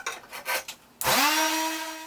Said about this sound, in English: And here I am sanding them smooth